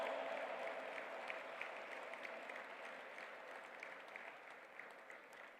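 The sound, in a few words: audience applause after speech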